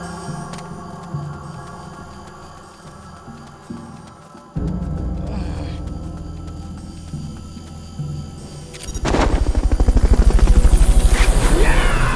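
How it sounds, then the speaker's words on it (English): Helicopter for the Fulton recovery in the video game Metal Gear Solid Peace Walker, a loud, steady rotor drone with low thudding pulses that grows heavier and louder partway through, with no talking. "Fulton recovery subject confirmed onboard helicopter."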